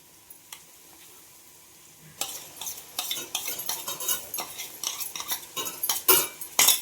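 Onions with ginger garlic paste are sautéed for biryani, with repeated close scraping and clinking of a metal spoon against the pan over a gentle sizzle, the stirring growing busier and louder.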